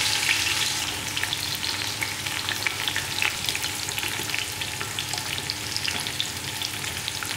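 Sliced onions fry and sizzle steadily in a pan for seeraga samba mutton biryani, a dense, continuous crackle with small pops throughout and no voices.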